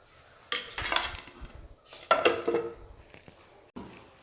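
A spoon scraping and clinking against a bowl while stirring thick rice flour dosa batter mixed with semolina, onion and coriander, in two short bursts of close, uneven scraping with a pause between.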